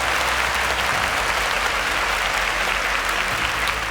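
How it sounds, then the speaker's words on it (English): A studio audience at a quiz show gives a quiz contestant a burst of continuous applause, dense and loud from start to finish, with no talking heard. "A round of applause for him."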